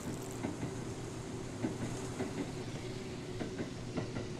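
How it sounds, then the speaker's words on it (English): A train passes at night with a steady rumble and a faint rhythmic clickety-clack of wheels on the rails, heard alone at moderate distance. "Oh, the train's going."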